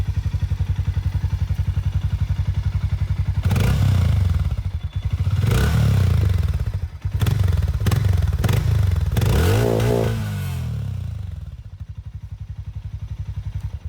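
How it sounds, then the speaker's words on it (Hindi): A Hero Mavrick 440 motorcycle exhaust idles with a deep, steady thump, then several sharp revs rise and fall before settling back to idle, loud and close. "मैं आप लोगों के साथ दोनों की जो एग्जॉस्ट साउंड है वो भी शेयर करना चाहूंगा। सबसे पहले दोस्तों स्टार्ट करेंगे विद मैवरिक 440।"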